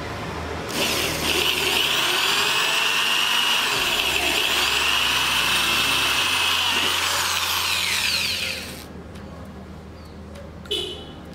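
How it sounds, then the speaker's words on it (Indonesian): Electric drill with a 10 mm bit boring into iron: a loud, steady high-pitched whine with grinding runs for about eight seconds, then stops abruptly, followed by brief quieter clatter; voices speak faintly around it. "Kita bor lagi."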